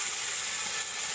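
Chili and a paste of ginger, garlic and cumin fry in a wok for a village picnic meal, a dense, bright sizzling hiss that holds steady and close for about a second.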